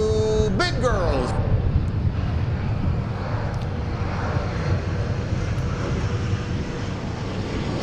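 Heavy jet airliners approaching at DFW Airport make a broad, continuous roar that stays loud across the whole stretch, with a brief rising whine early on.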